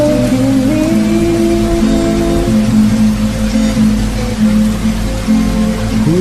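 Steady rain falls with an even, continuous hiss beneath sustained, soft music, with no voices.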